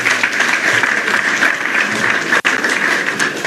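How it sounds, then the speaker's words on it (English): A large crowd at a Sunyani Technical University gathering claps continuously, a thick, even patter of many hands with one brief dropout midway, no speech over it. "Let's clap for them."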